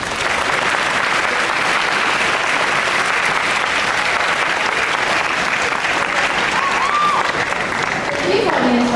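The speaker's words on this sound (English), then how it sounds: "Let's have another round of applause for our new president, Lian." Sustained, loud applause from an audience at a student leaders' investiture, dense clapping holding steady for several seconds, with faint voices mixed in toward the end.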